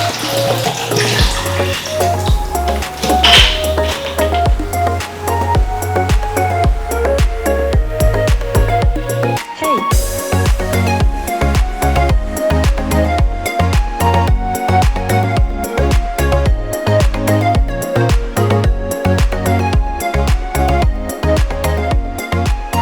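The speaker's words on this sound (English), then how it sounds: "So I'm going to pour in this whole bottle of water" A whole bottle of water poured into a blender jug while making homemade tigernut milk, a continuous splashing, gurgling pour running steadily and loudly close by for over twenty seconds.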